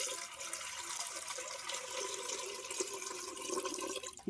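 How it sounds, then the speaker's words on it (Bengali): Cold water poured steadily into mashed mangoes for roasted-mango sherbet, a quiet continuous splashing trickle running for several seconds with no voices. "এখন ঠান্ডা জল দিয়ে দেবো এখন জলটা ঢেলে দেবো"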